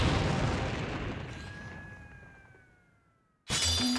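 A single loud gunshot fired at a butter knife edge bursts out and decays over about three seconds with a ringing metallic whine, followed by another sharp burst near the end.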